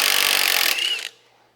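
A power tool runs steadily at close range while backing a bolt out of the front wheel steering on a Tilmor 520 tractor, then cuts off and winds down, with no talk.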